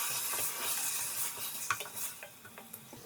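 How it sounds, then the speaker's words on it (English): A spoon stirs chicken katsu curry with tomato in a sizzling pan, giving quick scraping and clinking strokes over a constant close frying hiss. "And then give it a quick little stir."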